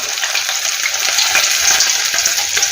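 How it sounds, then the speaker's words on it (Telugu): Garelu, lentil fritters, fry in hot oil with a loud, dense, continuous sizzle and bubbling crackle, close up and alone. "నూనె బాగా వేడెక్కి ఉంటే గారి ఫాస్ట్గా వేగుతుంది"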